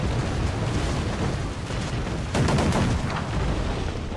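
Mortar and cannon fire pounds a fort in Assassin's Creed 4, a steady dense roar of rumbling blasts with a heavier burst of explosions midway, no voices present.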